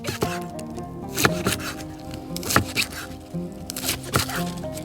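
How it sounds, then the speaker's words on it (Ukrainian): A knife chops fresh herbs on a board in quick, uneven strokes, each a crisp close thud, sometimes in fast pairs; no voices. "Спочатку наріжемо зелень"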